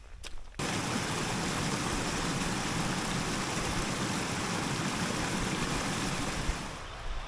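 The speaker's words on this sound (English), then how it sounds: "That's the brook there, which is quite a big brook." A large brook rushing through a woodland valley in the Peak District, a loud continuous roar of flowing water that starts abruptly after a brief quiet moment and holds steady, close by, with no talking.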